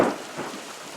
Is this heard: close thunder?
yes